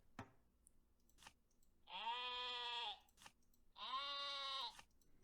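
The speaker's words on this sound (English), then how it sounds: "Get some more sheep in there." Two sustained sheep bleats from the video game Terracards, each about a second long and fairly clear, separated by a few soft clicks against a quiet background.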